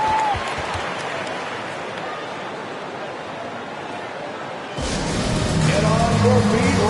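Arena crowd in an NBA 2K24 basketball game swells into loud, sustained cheering and applause partway through, after a steadier background crowd roar, with no talk over it.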